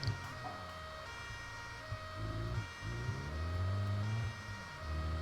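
A police car siren in the BeamNG.drive driving game, a steady electronic tone that rises and falls in pitch over about five seconds, loud and alone, with no talk.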